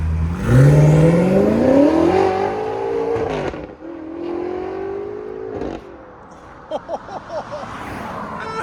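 A 900hp BMW X6 M Competition fitted with downpipes and Vibrant resonators revs hard, its exhaust sweeping up in a long loud pull, then easing off into a second rev, followed by quieter short throttle blips.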